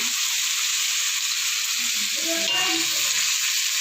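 Sautéed pechay hisses in a hot pan with a steady, close sizzle, while a few brief scraping and stirring sounds rise over it near the end.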